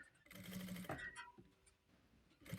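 A sewing machine stitching over the folded fabric layers at a placemat corner, a quiet close whirring run that pauses briefly partway and starts again at the end, with no voice over it.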